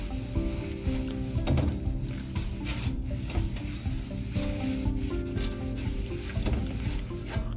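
A cymbal being scrubbed clean by hand with a polishing pad, a continuous close rubbing and swishing with faint metallic shimmer, steady throughout with no talking.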